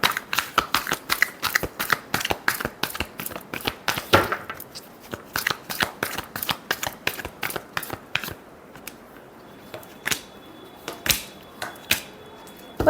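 Tarot cards shuffled by hand, a long run of crisp riffling snaps close up, fast and regular at first and then thinning to sparser taps.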